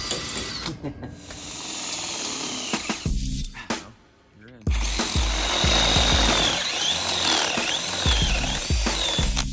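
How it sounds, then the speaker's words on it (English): A power drill bores holes for truck mirrors, whining loudly in long runs with a short pause midway, a brief voice breaking in. "we got all our holes drilled for our mirrors"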